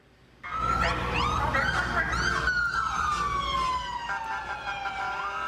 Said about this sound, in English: First responders honked horns and sounded sirens.